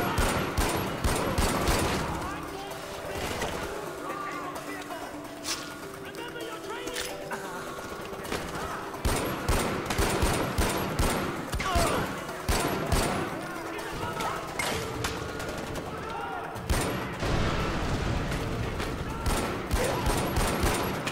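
Rapid bursts of gunfire in the video game Far Cry 4 during a multiplayer firefight, dense volleys and single shots cracking close and loud throughout, with a voice talking at times.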